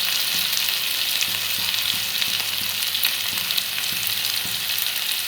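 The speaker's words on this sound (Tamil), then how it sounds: "நம்ம போட்ட வெங்காயம், தக்காளி, இஞ்சி பூண்டு பேஸ்ட்டு, மிளகாய் எல்லாம் நல்லா வதங்கியிருக்குங்க" Onion, tomato, ginger-garlic paste and chilli masala sizzle steadily in a pan for chole, a broad continuous fry with regular soft scraping taps of a spoon stirring through it; close and no voices.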